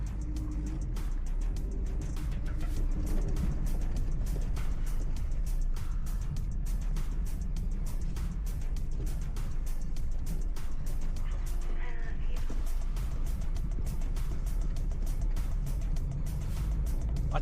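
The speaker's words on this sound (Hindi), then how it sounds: "मैं गुड़गांव में चला रहा हूँ गाड़ी" A car driven through Gurgaon traffic in summer heat over potholed roads, with a steady, loud road and engine roar throughout and no clear breaks, other vehicles blending into the constant rumble.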